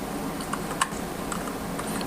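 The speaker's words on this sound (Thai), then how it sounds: "เดี๋ยวเราต่อคีย์บอร์ดเข้าไปแล้วเราลองคีย์กับตัวนะครับตัวโปรแกรมดูนะว่ามันจะโอเคไหมนะครับ" Keys tapped on an MK-100 Tsunami mechanical keyboard give a few faint, sparse clicks over a steady hiss of background noise.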